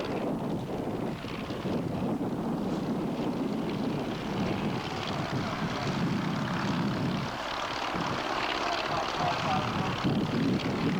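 A propeller-driven light aircraft flies a series of steep, low turns just above the ground at a 1984 air show in Masterton, New Zealand, its engine droning steadily for the whole stretch with wind buffeting the microphone.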